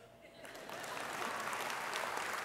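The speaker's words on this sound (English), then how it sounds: "Give yourself a hand." Applause from an audience at an award event swells from a light patter into full, dense clapping that holds steady to the end.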